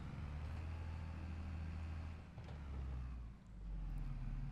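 A truck in Farming Simulator approaches with a steady low engine rumble and drone that dips briefly before swelling again, with no talk over it.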